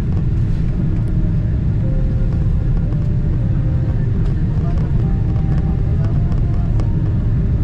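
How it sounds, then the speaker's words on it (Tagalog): Steady low rumble of an airliner cabin during descent into Manila, a constant droning roar with no distinct events, close and even throughout. "Lalanding na po yung aeroplano."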